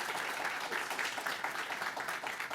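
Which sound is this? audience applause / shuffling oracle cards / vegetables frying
audience applause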